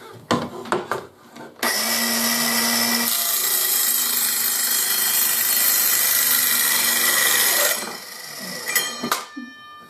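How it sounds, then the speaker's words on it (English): A battery-powered trim saw with a freshly sharpened blade cuts through a workpiece in one loud, steady, whining pass of about six seconds, with a few handling knocks and clicks before and after. "Now I'll put it back on the saw and we'll just give it a little test and see if it really cuts nicely."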